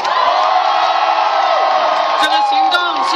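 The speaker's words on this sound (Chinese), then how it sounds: "请为台湾人民的胜利欢呼" A large rally crowd in Taipei, gathered at the end of a student occupation movement, roars and cheers on and on, with whoops and yells rising over the dense crowd noise and staying loud throughout.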